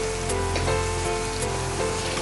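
Ingredients sizzling steadily in a hot pan with rice while spicy chicken rice is cooked, a close, dense frying hiss with faint stirring scrapes and no talking.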